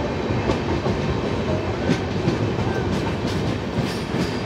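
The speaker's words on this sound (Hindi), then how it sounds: "तो महाराष्ट्र एक्सप्रेस आने वाली है रिवर्स डायरेक्शन में।" Maharashtra Express passing in the opposite direction near Nandura, heard from aboard a moving train: a steady, loud rumble of wheels with rhythmic clickety-clack running continuously, no voices.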